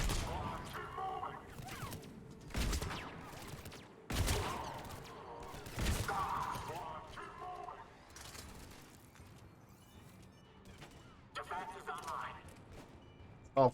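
Turret gunfire in the Mass Effect 3 video game, heard as several loud bursts of shots spaced out over the clip, mixed with game effects and a person talking.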